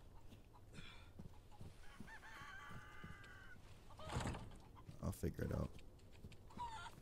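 Chickens cluck and a rooster calls in the Resident Evil 4 Remake video game, short bird calls sounding at moderate level through the scene, with someone talking over part of it.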